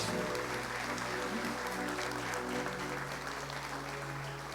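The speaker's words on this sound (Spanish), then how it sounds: "¿Alguien le puede dar una ofrenda de palmas al Rey de Reyes?" A church congregation claps during a Spanish-language sermon, the applause steady and sustained throughout over a low organ-like hum.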